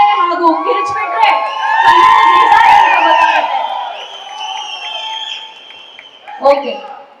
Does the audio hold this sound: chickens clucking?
no